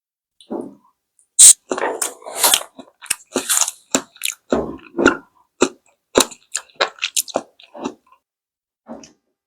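Close, loud, wet chewing of raw conger eel sashimi with crisp vegetables, in repeated crunchy and squishy bites spread across the clip at an uneven rhythm.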